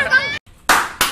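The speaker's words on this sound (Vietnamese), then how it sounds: "Vỗ tay, vỗ tay." Hands clap in two short bursts at a roller-skating group's early Mid-Autumn outing on Nguyen Hue walking street, with a voice speaking just before.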